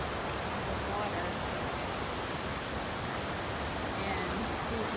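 Rapids called Hollywood Rapids on the river at Belle Isle, Richmond, Virginia, running over exposed rocks at low water, give a steady, dense broadband rush that holds evenly throughout without pause.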